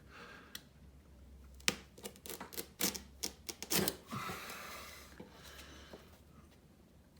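A sharp knife slices through boat deck carpet, giving a series of scratchy cuts and clicks that cluster into a busy stretch before trailing off, close and fairly quiet with no talking.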